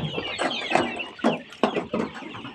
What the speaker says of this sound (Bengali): এখানে আমার 300 দেশি মুরগি আছে।